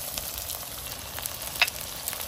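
A ground spice paste of cumin, coriander, dried chili, ginger, salt and turmeric fries in a pan with a steady, close sizzle and occasional stirring scrapes, one sharper clink standing out near the end; no voices.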